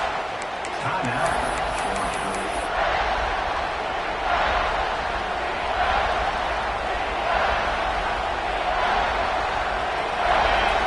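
Stadium crowd at a Georgia vs Oregon college football game roars steadily through a big red-zone third down, a broad continuous wash of cheering with swelling peaks, with commentary heard over it.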